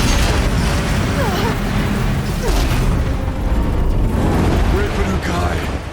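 An explosion from explosive ammo in Horizon Zero Dawn's Frozen Wilds, at the Forge of Winter: loud, sustained booming and rumbling blasts fill the whole stretch, with voices faintly mixed in.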